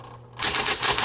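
A 1970s Smith Corona Electra 210 electric typewriter clatters through a quick burst of several loud, close keystrokes after a moment of motor hum.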